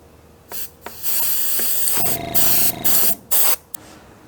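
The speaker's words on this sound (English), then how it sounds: "So I had to improvise here with the old squirt bottle." A hand squirt bottle sprays a white paint base layer in a series of about seven short, sharp hissing bursts with brief gaps between them, close to the microphone.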